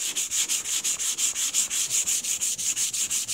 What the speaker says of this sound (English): And see, guys, that wet sanding help makes it slick.